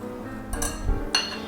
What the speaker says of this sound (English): So we are just going to take our flour and our baking soda and just give that a good whisk